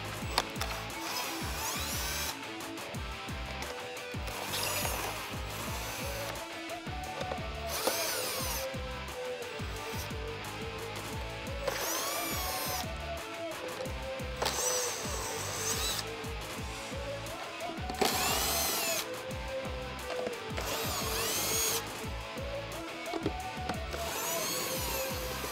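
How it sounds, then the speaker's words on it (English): A power tool backs out 8 mm bolts around the front bumper of a Jeep Wrangler JL, whirring in repeated bursts with ratcheting pauses between bolts, close and fairly loud throughout. "Now I'm going to remove the 8 millimeters that go all the way around the bumper"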